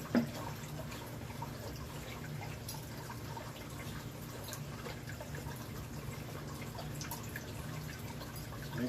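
Water poured onto loose coconut fiber reptile bedding, a steady soft trickling and dripping wash that runs evenly and fairly quietly from start to finish.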